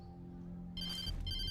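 A telephone rings in the video game Alan Wake Remastered, a steady electronic ring that starts partway through over a low ambient hum, fairly loud and close with no talking.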